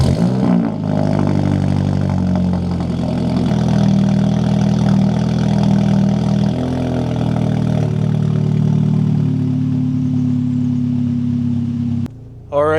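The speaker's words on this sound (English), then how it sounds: "Let's get a cold start before we go." A car engine starting cold, then idling with a steady mid-pitched drone whose tone shifts slightly. The idle runs loud and close for about twelve seconds before cutting off abruptly near the end.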